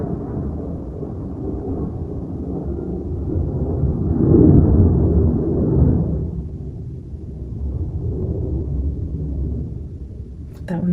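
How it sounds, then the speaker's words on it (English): A plane flies overhead outdoors, a low, loud rumble that swells toward the middle and then slowly fades, with a brief sound at the very end. "I haven't heard a plane fly over in a couple days"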